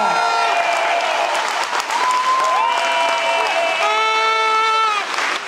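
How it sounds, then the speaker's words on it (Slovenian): A large outdoor crowd claps at a reception in Congress Square, Ljubljana, with loud steady applause while tonal whistles, horns or cheering voices rise and fall over it. "dajmo en aplavz tole za Vali Marka"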